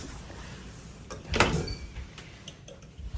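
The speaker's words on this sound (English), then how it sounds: "nice sliding barn doors to the bathroom, which they meet together to close and lock" Sliding barn doors to a hotel bathroom in Boston roll together to close, giving one fairly close rolling thud partway through, followed by faint knocks against a quiet room.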